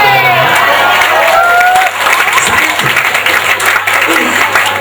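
An audience at a campus anniversary celebration claps steadily, a dense wash of applause with some crowd noise mixed in, close and loud throughout.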